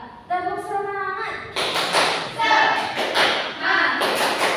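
A school class clapping a rhythmic cheer clap in bursts of hand claps and taps, with children chanting in unison over them.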